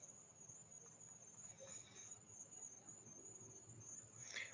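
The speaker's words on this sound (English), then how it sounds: "I don't need to do cricket impressions. I have already crickets" Crickets chirp in a continuous high, steady trill that forms a quiet, even night ambience, with faint low background noise and no talking.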